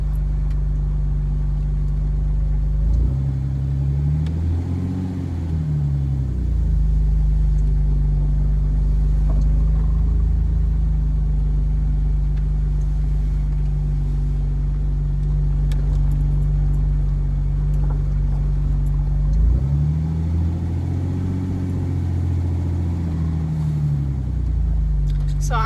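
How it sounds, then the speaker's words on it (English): A Jeep on a test drive after front differential work rumbles along with a low, continuous engine drone, swelling twice as it accelerates, heard from inside the cabin. "now we're going to go ahead and take the Jeep for a test drive"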